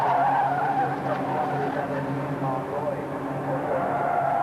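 Ford Escort race cars skid and jostle at Brands Hatch in a 1985 rally-versus-rallycross race, a continuous roar of engines and tyre scrub under an excited commentator's voice.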